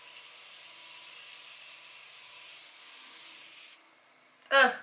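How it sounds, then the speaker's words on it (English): A soft, steady hiss of makeup setting spray lasts several seconds, then stops, followed by a brief louder rustle or bump. "A little setting spray."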